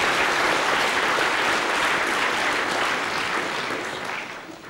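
Steady, dense applause from an audience at a university institute ceremony, loud and continuous throughout before thinning slightly at the end.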